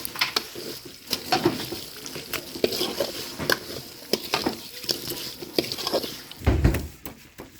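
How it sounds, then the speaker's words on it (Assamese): Spoon stirring red chili, coriander and cumin powder in a pan, with repeated scraping strokes and soft frying crackle running steadily throughout at close range. "এতিয়া মই অকণমান দি দিছোঁ ৰেড চিলি, অকণমান দি দিছোঁ ধনিয়া গুড়ি, অকণমান জিৰা গুড়ি ইয়াত দি দিছোঁ। ধুনীয়াকৈ অকণমান লৰাই দিম।"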